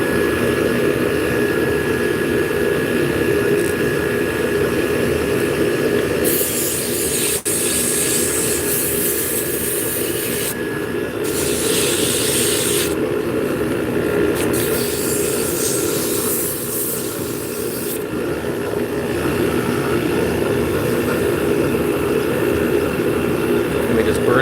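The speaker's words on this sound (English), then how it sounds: "Turning hard maple." Wood lathe turning a hard maple blank, a steady loud whirring hum with a continuous broadband scraping hiss from the cutting tool, swelling in brighter bursts as the cut deepens.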